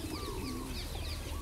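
A pigeon coos softly amid other faint bird chirps and a steady low outdoor background, with no talking.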